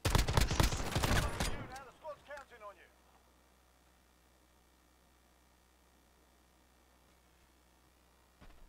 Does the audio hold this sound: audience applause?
no